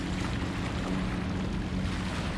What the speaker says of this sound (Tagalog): Ayun oh, yung banana boat.